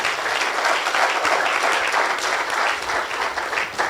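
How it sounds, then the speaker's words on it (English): An audience at a 60th birthday symposium breaks into applause, a loud, sustained wash of clapping filling the whole moment without pause. "Please give a round of applause to this man."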